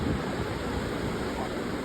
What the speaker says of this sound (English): the endless waltz of waves crashing on rocks carved by time